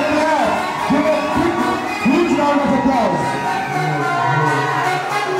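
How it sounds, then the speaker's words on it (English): A live audience at a university qawwali event cheers and whoops as the performer is called to the stage, a lively crowd of raised voices and shouts swelling and fading in bursts. "Give a clap."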